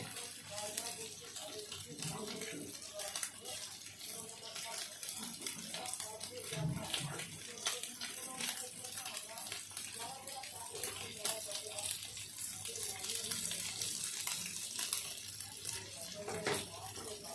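Small puti fish sizzle and crackle steadily in hot mustard oil in a home kitchen pan, a soft continuous hiss that stays fairly faint throughout.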